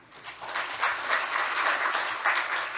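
Welcoming applause for a discussant at an international criminology forum, a room of listeners clapping that swells quickly and stays lively for a few seconds.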